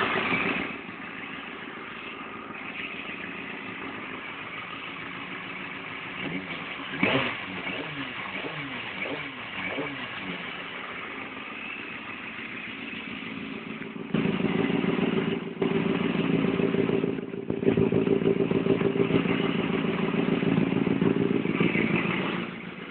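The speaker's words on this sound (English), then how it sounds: "Currently warming my engine up until it hits 95 degrees Celsius and has the radio fan turned on." A Kawasaki ZX6R motorcycle engine warms up at idle, a steady mid-pitched rumble with brief clatter, growing slightly louder and rougher in the later part.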